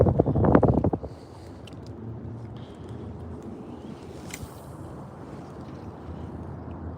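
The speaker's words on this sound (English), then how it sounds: "It's really windy." Steady wind buffets the microphone outdoors on a cloudy day of fishing in a new area, a loud handling thump at the start giving way to continuous rushing gusts.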